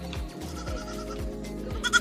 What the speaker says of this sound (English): We'll call him Balenciaga. Balenciaga the goat.